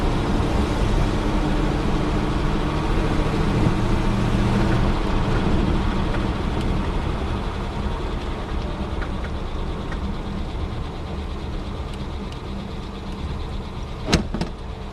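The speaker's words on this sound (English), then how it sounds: "You can hear it's a pretty smooth running car." A 1936 Cord Westchester with a flathead V8 engine runs smoothly, a steady, even low drone heard from the car as it drives, with no voices and a brief click near the end.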